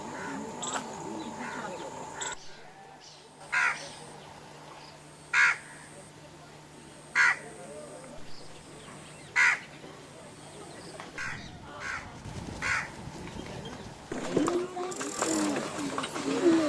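Crows caw in regular, loud, spaced calls over a steady hum in the marshes of Keoladeo bird sanctuary in India, with other birds and outdoor noise in between.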